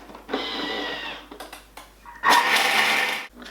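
A kitchen food processor chops garnish with its lid and measuring cup in place, whirring in two short loud pulses separated by a brief pause, close by and without talk.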